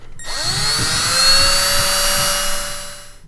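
A small drill bit bores into metal on a Ford Mustang Supercoupe during an engine swap, a steady high-pitched whine held for about three seconds at close range, loud and alone.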